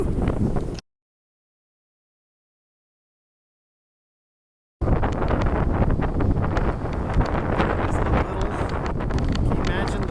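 Strong wind buffets the microphone on the Alpine Loop mountain pass in Colorado near 12,000 feet, a loud, steady roar with gusty crackle. It breaks off abruptly, then after several seconds of silence it returns at full force.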